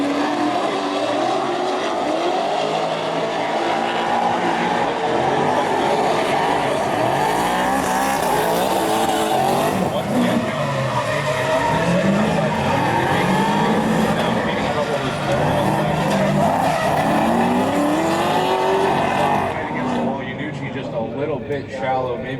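Drag-strip race cars launch and roar down the strip, the engines loud and rising in pitch as they pull away into the distance, and a commentator talks over much of it.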